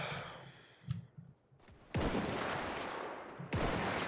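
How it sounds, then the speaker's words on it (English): Gunfire in Mount & Blade: Warband, with scattered soft shots near the start, then two loud, close volleys, the second following the first after about a second and a half. "Look, shots are getting in close, but not there yet."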